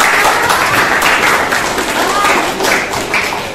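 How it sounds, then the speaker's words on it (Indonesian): A classroom of students claps for a classmate during a maths lesson, a brief burst of many hands applauding together with uneven loudness, tapering off toward the end. "tepuk tangan buat Rina"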